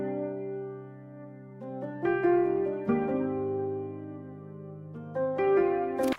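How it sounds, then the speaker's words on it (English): Felt piano with EQ and vintage chorus effects plays a few soft, sustained chords with gentle melodic notes on top, warm and slightly wavering, alone and fairly quiet. "with all effects, the piano sounds like this"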